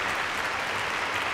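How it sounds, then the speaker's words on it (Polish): Steady applause from a concert audience after a young performer's turn at a symphonic talent show, dense clapping filling the whole moment without a break. "Poprosimy o klaski."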